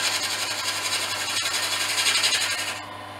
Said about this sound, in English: when we touch it with the cutting tool, instead of all the chipping noise, we'll have a nice smooth surface